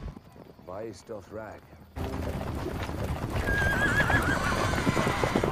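Horses of the Dothraki riders in Game of Thrones, on a vast dry plain: loud clip-clopping hooves and whinnies from many animals fill the scene, with a brief stretch of speech before the horses burst in.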